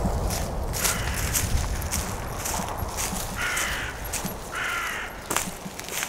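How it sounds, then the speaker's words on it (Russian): Crows cawing at an outdoor archery range, a few short calls rising above a constant rushing, noisy background. "Эх, ворона, ворона."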